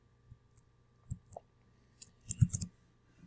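Computer mouse clicks in Photoshop's Bridge file browser: a few soft, sparse single clicks, then a quick close cluster of clicks, with no talking.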